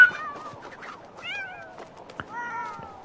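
Several cats meow and yowl in a Sims 4 catfight, with rising and falling cries overlapping at close range, a sharp thud or scuffle near the middle, then a long drawn-out wail to finish.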